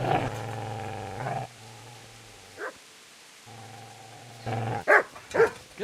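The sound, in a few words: dog barking and growling in video game Kingdom Come: Deliverance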